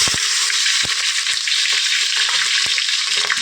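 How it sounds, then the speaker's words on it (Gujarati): Green chillies fry in hot oil with mustard seeds and cumin, a dense bright hiss of sizzling with a few sharp pops and spoon taps, close and continuous. "તો પહેલાં આપણે મરચાં નાખી દઈએ"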